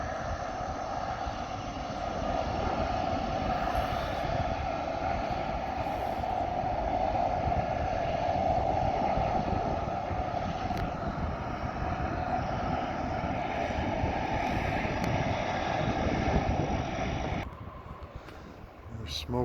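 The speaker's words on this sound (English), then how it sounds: "I don't even know if you can hear me with the wind." Strong west wind roars steadily outdoors near a forest fire at Hay River, a loud, constant gusting rush that drops away abruptly near the end.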